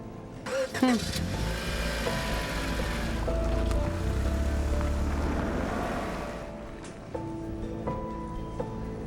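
Sound effect of a car pulling away and driving, a loud steady engine rumble that swells and then fades, under a voice in a Hindi audio drama.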